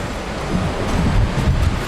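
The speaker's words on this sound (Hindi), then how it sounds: "झरने की फुहार इतनी तेज है" A waterfall in a dense forest sends out heavy spray, producing a steady, loud, broadband roar with no pauses and no voices.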